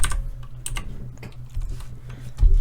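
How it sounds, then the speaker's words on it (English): Keys clatter on a computer keyboard in quick, uneven taps, close and clear, with no talking. "Sorry for my slow typing."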